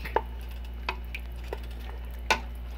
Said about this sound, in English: Live stirring.